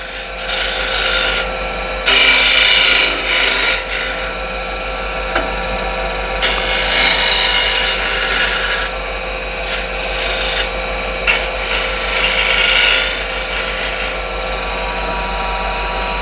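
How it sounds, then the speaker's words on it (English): A woodturning scraper cuts a decoration into spinning wood on a lathe, giving a loud raspy scraping in repeated bursts of several seconds over the steady hum of the motor. "Now we can use this scraper again to make a decoration."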